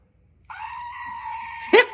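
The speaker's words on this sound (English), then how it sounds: "the ultimate kid at heart gift at Fuzzy Goat is our screaming goat" Screaming goat novelty toy lets out a loud, sustained nasal wail for over a second, followed by two short harsh bursts at the end.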